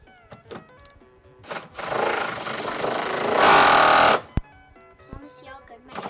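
A power drill whirs against fasteners on a 2024 Toyota Tacoma truck bed, a loud grinding run of about two seconds that builds and cuts off, with brief clicks and a voice around it.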